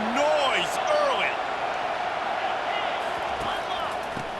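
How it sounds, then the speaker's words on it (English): Stadium crowd noise in the video game College Football 25 forms a steady, loud roar, with a commentator's voice over it near the start. "This crowd bringing the energy and noise early."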